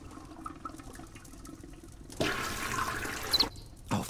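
A toilet flush button is pressed in the video game Chaos auf Deponia, followed by rushing water pouring in from above, rising suddenly and running loudly for a couple of seconds amid quieter background sounds.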